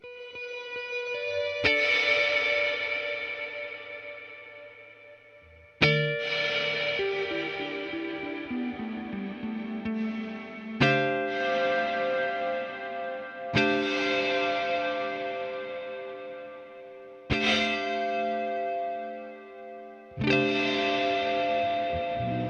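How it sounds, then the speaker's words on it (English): Guitar chords strummed lightly about five times through a long reverb effect, each ringing out into a long, washy tail that swells and lingers before the next strum. "I'm gonna have a really long reverb,"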